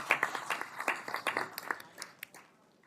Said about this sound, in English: And yes, you can applaud for Sandy.